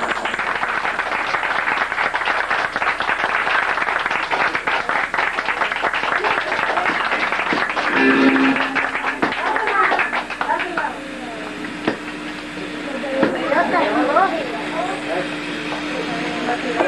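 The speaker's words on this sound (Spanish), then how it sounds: "A ver ese aplauso." A crowd applauds at a live event, a dense wash of clapping that fills the first half and then thins out, with voices talking over it.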